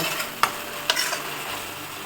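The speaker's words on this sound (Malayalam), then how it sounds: "ഇതിലേക്ക് നമുക്ക് ഒരു table spoon ginger garlic paste ഇട്ട് കൊടുക്കുക ഓവർ ആവരുത് കേട്ടോ കുറച്ചിട്ട് കൊടുത്താൽ മതി അതും കൂടി ഒന്ന് മൂത്ത് വരട്ടെ ഇത് നല്ലപോലെ ഒന്ന് വഴറ്റുക" Ginger garlic paste for pav bhaji sautés in a pan, a steady bright hiss of frying with two quick scraping clicks of a spoon early on.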